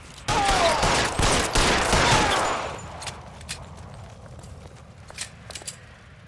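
Gunfire from the video game LA Noire comes as a dense, loud fusillade of overlapping shots lasting a few seconds, then fading into a few sparse, distant single shots.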